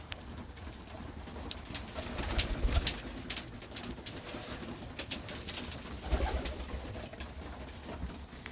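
Pigeons fed without troughs coo softly, their low calls repeating through a busy background of fluttering and pecking, with two fuller swells of sound, all at close range and with no voices.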